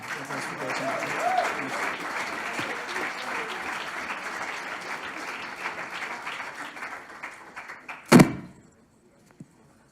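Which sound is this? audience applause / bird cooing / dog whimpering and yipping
audience applause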